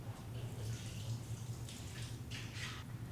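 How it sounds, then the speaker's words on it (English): Water splashes and runs steadily as carrots are rinsed in a one-quart saucepan and drained, a soft continuous trickle with brief brighter splashes near the end, close by with no talk. "Rinse the carrots right in the pan and drain the water."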